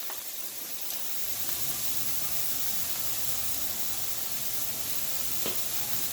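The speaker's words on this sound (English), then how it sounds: "cook the shrimp like 2 minutes on each side" Jumbo shrimp seasoned with black pepper frying in a pan for a ramen noodle stir-fry, a loud, steady, close sizzle hissing throughout with a couple of faint clicks, and no voices.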